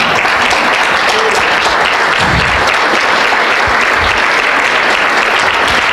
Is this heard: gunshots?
no